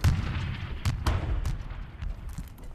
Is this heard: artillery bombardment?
yes